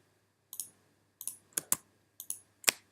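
Sharp computer mouse clicks while parts are selected in drawing software, six or seven crisp close clicks coming singly and in quick pairs against a quiet room.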